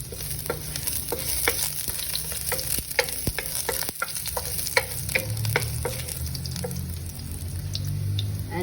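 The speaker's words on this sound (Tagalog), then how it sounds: "Saute the garlic." Garlic sautéing in a pan for longanisa pasta, with a steady close sizzle under a run of sharp scraping stirs from a utensil against the pan.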